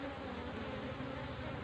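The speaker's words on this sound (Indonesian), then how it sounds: "Itu adalah lebah penjaga ya." Guard bees hum in a steady, dense buzz just outside a beehive box, a soft, continuous drone with no breaks.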